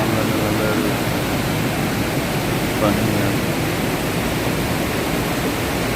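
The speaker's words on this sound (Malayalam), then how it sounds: "അതുപോലെ തന്നെ നല്ല ഒഴുക്കുമാണ് വളരെ ശക്തി ഒഴുകുന്ന ഇടം" Strong river water surging through a dam after heavy rain, a steady broadband roar that stays loud and unbroken throughout with no clear voices.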